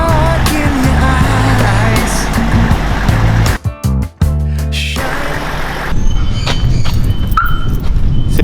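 A Hummer H1 drives along the road, a steady loud engine and road rumble with wind noise, briefly cut off partway through before the driving sound resumes.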